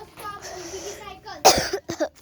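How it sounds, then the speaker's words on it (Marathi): A person coughing indoors near a home cooking stove, a quick burst of a few close, loud coughs after a quiet stretch with faint background sound. "खोकला येतोय मला."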